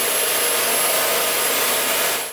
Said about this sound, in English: the WandVac stick vacuum is noisy,